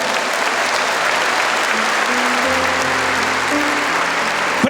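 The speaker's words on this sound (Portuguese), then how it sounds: "chamado Monsenhor Jonas Abib, que eu queria que você aplaudisse nessa hora." Sustained audience applause from a church crowd at a Catholic sermon in Cachoeira Paulista, a dense continuous roar of many hands that stays loud throughout, with a faint tonal murmur underneath.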